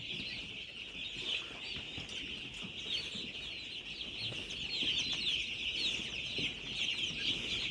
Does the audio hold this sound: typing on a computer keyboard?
no